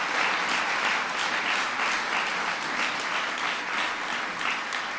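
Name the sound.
audience round of applause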